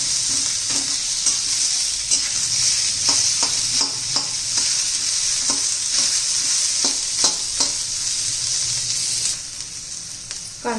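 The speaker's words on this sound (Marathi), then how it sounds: "आता कांदा घालून घेऊ असं तांबूस रंगावर येईपर्यंत आपल्याला कांदा भाजायचा आहे" Chopped onion fries and sizzles in a pan until golden brown, with steady hissing broken by repeated clicks and scrapes of stirring, close and fairly loud, with no voices.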